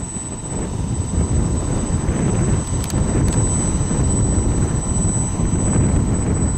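Vintage B-29 bomber taxiing under its own power on a windy day: a steady, loud engine roar with heavy wind buffeting the microphone throughout, no voices.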